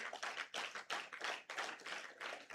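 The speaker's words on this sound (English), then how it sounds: "Please give him a resounding applause." A small group clapping for a university dean at a regional debate event, a few seconds of uneven hand claps in bursts, faint and close.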